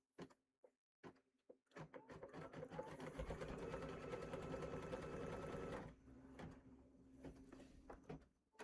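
An embroidery sewing machine stitches one small side of a July pillow wrap, faint and close. A few short clicks and starts lead into a steady whirring run of about three seconds, then it stops, followed by scattered light taps and clicks.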